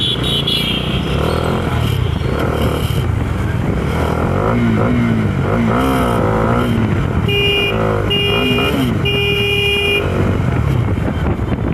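A Bajaj Dominar 400 motorcycle rides through night traffic, its steady engine and wind roar loud throughout, with horns tooting from nearby vehicles and a voice briefly speaking.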